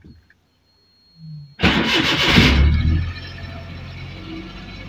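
A car engine cranks and catches after the doors unlock in a Punjab village, roaring loud for about a second before settling into a steady, quieter idle.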